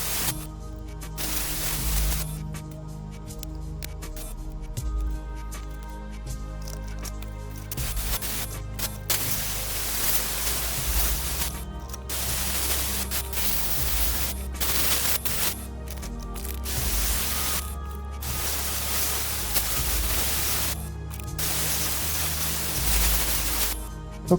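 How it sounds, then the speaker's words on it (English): Airbrush spraying out the last of the paint from its cup before cleaning, painting an O gauge Hymek model locomotive: a steady hissing spray in repeated bursts with short pauses, fairly close and continuous for most of the stretch, no talking. "this is me just messing, getting the last of the paint out of the airbrush cup before cleaning it"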